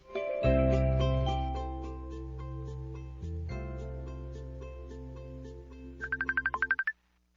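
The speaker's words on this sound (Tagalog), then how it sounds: "May bagting ang akong cellphone." A cellphone rings nearby with a bright melodic tune over a sustained bass line, ending in a quick run of rapid beeping notes before falling silent; no speech.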